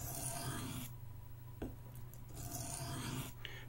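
The blade of a Buck 110 folding knife is drawn across a sharpening stone to raise a burr while changing the bevel angle, making a soft, close rasping scrape in several strokes with a short pause partway through.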